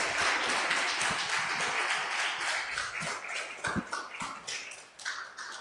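A church congregation at a worship service claps together in a dense, steady wash of applause that thins out and fades toward the end.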